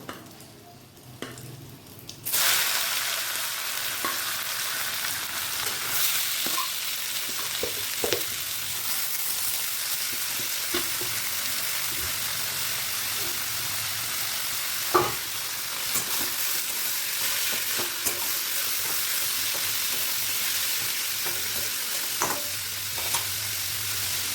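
Grated ash gourd sizzling steadily in hot oil with bay leaf and green chilli in a pan, with a loud continuous fry and occasional scraping stirs of a spoon through the mixture, no talking.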